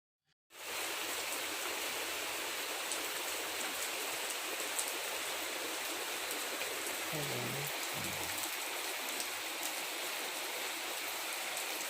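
Heavy rain pours down in a dense, unbroken hiss that starts abruptly and holds steady and loud throughout, with a faint low murmur partway through.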